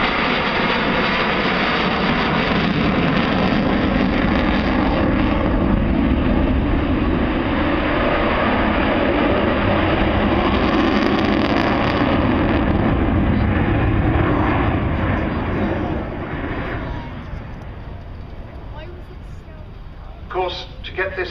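Avro Vulcan XH558 jet bomber flying at the Farnborough airshow, a loud, broad engine roar sustained for many seconds before fading as it moves away, with a voice commentating over it.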